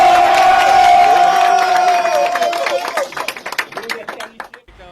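Cameroon's CHAN 2021 football team applauds itself after qualifying, a loud crowd of voices cheering at first, then breaking into scattered, uneven clapping that thins out toward the end.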